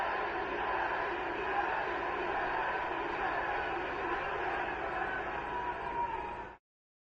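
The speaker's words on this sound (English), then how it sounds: "The crowd, just listen to the crowd." A wrestling arena crowd roars and cheers steadily at close range throughout, a dense wall of voices that holds level and then cuts off abruptly near the end.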